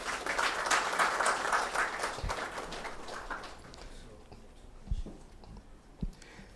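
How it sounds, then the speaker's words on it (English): Applause from an audience at a pan-African conversation event welcoming a speaker, a steady round of clapping that fades after a few seconds, leaving quiet room sound with a few soft knocks. "with a round of applause, let's welcome Dr. Sheikh Thiam."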